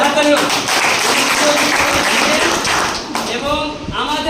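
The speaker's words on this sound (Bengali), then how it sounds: "জোরে হাততালি হোক।" An audience at a women's welfare society marketing event in Malda claps in loose, scattered bursts, with a voice speaking through the applause over a loud hall background.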